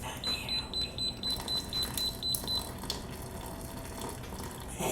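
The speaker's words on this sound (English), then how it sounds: "Pour a little bit of this tater water in here." Potato cooking water poured into a pan of gravy in a home kitchen, a steady watery pour with faint sizzle and a repeating electronic beep in the background.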